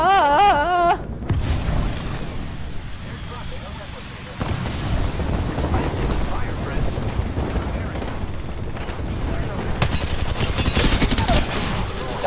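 Video game firefight with dense bursts of automatic gunfire and booming impacts rolling on throughout, an electronic warble at the start and players talking over the shooting.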